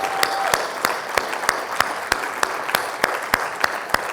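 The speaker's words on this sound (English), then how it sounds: "I think we need to give them a round of applause." Applause for union members during a nurses' union president's address, heard as steady, evenly spaced individual claps standing out over a softer background of crowd clapping.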